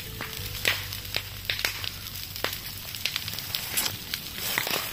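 Brush fire burning in an overgrown field being cleared, giving a steady dense crackle and sharp pops with a low roaring hum underneath, close and continuous throughout.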